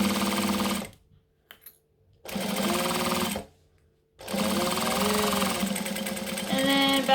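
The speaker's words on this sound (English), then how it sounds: "So I'm just going to top stitch this down, basically." Domestic sewing machine top stitching fabric, running in three bursts of rapid mechanical whirring and stitching separated by short pauses, close and clear with no talking.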